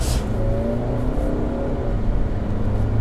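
Volvo XC60 (2017) driving on roads in the Luberon, a steady loud engine and road drone that holds throughout with a faint rising note, no talking.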